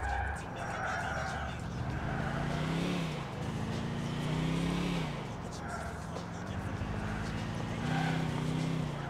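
A car drives in the video game GTA IV, its engine droning steadily with rising and falling pitch as it shifts and accelerates. Someone talks over most of it.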